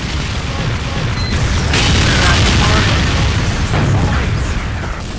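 Heavy, sustained booming blasts from a rocket jump in the video game Team Fortress 2, loud and continuous with rumbling low end throughout, no clear speech over it.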